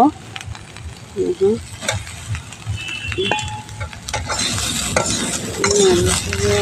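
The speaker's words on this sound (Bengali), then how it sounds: "ভালো করে মিশিয়ে নেব।" Fried potatoes are stirred into an egg and eggplant curry in a pan, with loud scraping and clattering of a spoon against metal over a steady sizzle; a voice speaks briefly near the start.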